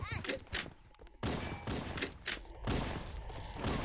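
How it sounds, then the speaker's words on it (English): Gunfire in the video game Cursed Halo, a fast burst of shots with loud cracks packed close together, filling the short stretch. "Whoops, I didn't mean to shoot the gun."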